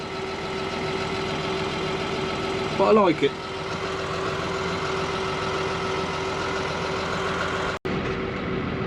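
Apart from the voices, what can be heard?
tractor engine idling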